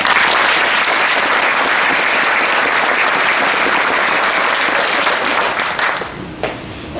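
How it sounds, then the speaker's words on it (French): Sustained, loud audience applause fills a hall at a free evening talk in Dieuze, dense clapping throughout that thins out and tapers off near the end. "je vous demanderai de les applaudir."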